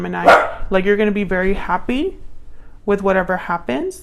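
A dog barks a few times in the background, the barks sitting under a person speaking up close.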